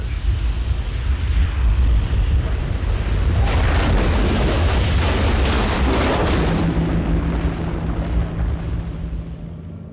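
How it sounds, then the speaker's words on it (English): An avalanche thunders down an Andes mountainside toward a crashed plane fuselage, a loud, dense, continuous roar that swells into a heavier rush before easing into a lower rumble. "An avalanche has started down the mountain."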